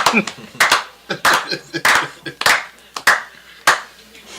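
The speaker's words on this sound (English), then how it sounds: "slow clap" Several slow, evenly spaced claps ring out one at a time, loud and close, with pauses between them.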